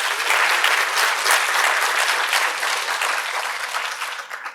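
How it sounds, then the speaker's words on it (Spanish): Sustained applause from an audience at a Mexican book presentation attended by government officials, a dense, steady wash of clapping that holds loud throughout and eases slightly near the end. "Un aplauso."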